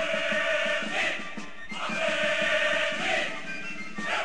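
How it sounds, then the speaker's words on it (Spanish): Athletic Bilbao football fans sing their anthem together near San Mamés stadium in Bilbao, a sustained sung chant from a distant crowd in rising and falling phrases. "Los cánticos de la marea rojiblanca inundan de pasión el barrio de San Mamés y aumentan la temperatura del ambiente."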